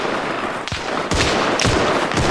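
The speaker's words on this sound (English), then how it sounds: "Shots further west" Gunfire in the war game Arma Reforger, several sharp distant shots and echoing cracks over a loud, constant noisy background.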